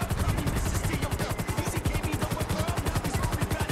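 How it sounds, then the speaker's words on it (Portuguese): A helicopter in the video game GTA V gives a loud, close, rapid rhythmic rotor chop that runs steadily throughout, with dense whooshing blade thumps. "Fazia mal tempo que eu não pegava um helicóptero"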